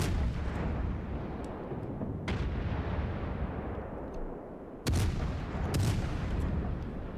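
A warship's 152mm guns in World of Warships fire in deep booming salvos, with a loud blast at the start, another near the middle and a sharp double report late, over a steady low rumble.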